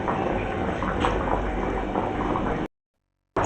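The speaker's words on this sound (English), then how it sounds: "My rice is cooking over here" Rice boiling in a cooking pot, a steady bubbling, hissing simmer close by that cuts off abruptly near the end and then briefly returns.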